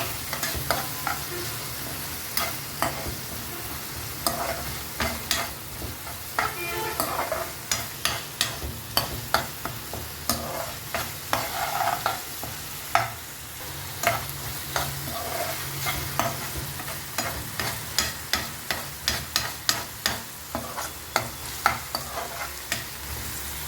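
A spoon stirs oats, rava and atta batter in a hot pan, scraping again and again in a steady rhythm over a continuous sizzle of frying, close and fairly loud, with no talking.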